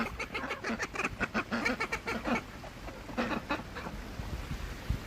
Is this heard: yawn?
no